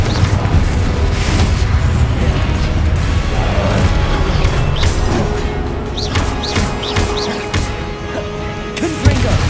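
In the video game Hogwarts Legacy, Confringo blasting curses go off amid combat, loud booming blasts and crashing impacts layered over continuous battle noise with no clear pauses.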